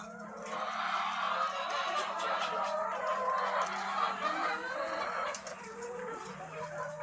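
Hens cluck and murmur steadily throughout on a poultry farm, a busy chorus of fowl with soft chatter and rustling, fairly close and continuous.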